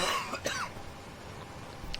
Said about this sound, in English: So if you hear me coughing, it might be just that.